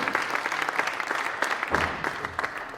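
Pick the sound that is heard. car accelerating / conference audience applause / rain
conference audience applause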